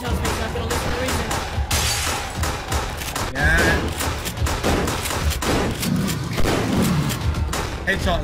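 Gunshots in the Wii rail shooter Resident Evil: The Darkside Chronicles, a string of sharp shots and heavy thuds scattered through game noise and music, with players talking over the action.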